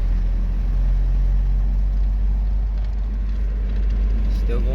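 A Toyota 22RE engine pulls steadily up a fairly steep incline in third gear at light throttle, a continuous loud low rumble from inside the vehicle with no breaks.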